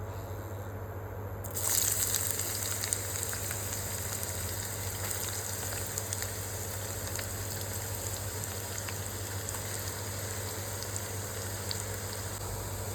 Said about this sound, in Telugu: ఫస్ట్ ఉల్లిగడ్డలు వేసుకుని కాసేపు కాగని వచ్చా